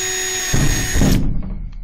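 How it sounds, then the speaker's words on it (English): A Porter-Cable power drill whines loudly at a steady high pitch, then bogs down as the bit bites into material before spinning down and stopping, with a few light knocks after. "Check out my new Porter cable drill."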